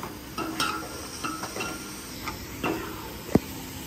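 Masala fries and scorches in a hot pan with a faint hiss. Scattered stirring scrapes come close by and one sharp clink near the end.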